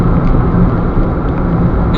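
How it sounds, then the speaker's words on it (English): Noisy Peugeot with a five-speed manual heard from inside while driving: a steady broadband road and engine roar with low rumble, loud and continuous, no talking. "Very noisy car. I'm aware of noise everywhere."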